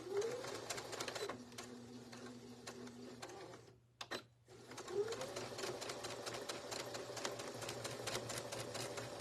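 A sewing machine runs a seam through fabric, its steady rapid needle chatter carrying on for several seconds, pausing briefly, then resuming at a constant pace, close and fairly loud.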